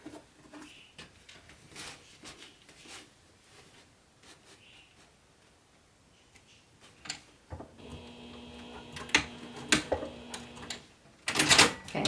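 A sewing machine stitches a bag. Soft, sparse ticks and taps come first, then a louder burst of rapid mechanical stitching with a steady whir near the end.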